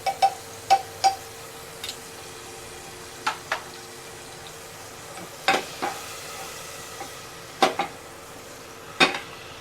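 Butter heats in a cooking pan with a faint steady sizzle, broken by sharp, evenly spaced clicks and taps of a spoon against the pan, close by with no talking.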